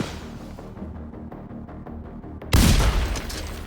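In The Division 2, a steady low rumble with faint rhythmic thuds gives way to a sudden loud, broadband blast of autocannon and mortar fire that stays sustained and near.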